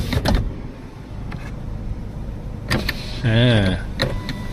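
One-touch power window on the driver's door of a 2024 Toyota Yaris 1.2 Sport, a short electric motor whir rising in pitch as the glass travels, with faint cabin clicks around it and no talk.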